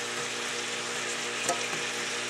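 Vegetable breakfast hash with beets, onion and onion powder frying in a pan, a steady close sizzle with one brief utensil tap midway, no talking.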